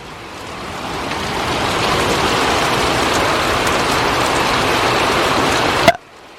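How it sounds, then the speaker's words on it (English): Heavy rain pours down during a thunderstorm as a loud, dense, steady hiss that builds over the first couple of seconds, holds constant, then cuts off abruptly near the end. "Rain's calming."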